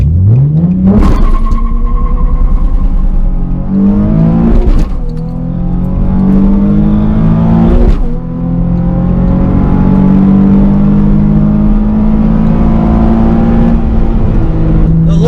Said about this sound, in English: Bit of wheel spin.